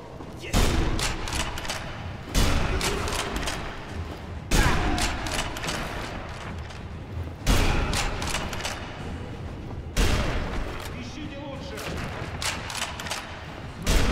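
Enemy gunfire in Sniper Elite V2 comes in loud repeated bursts of rapid shots every few seconds, each volley cracking sharply and then trailing off, with dense battlefield noise between them.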